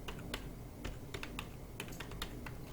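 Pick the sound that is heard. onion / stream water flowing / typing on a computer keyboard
typing on a computer keyboard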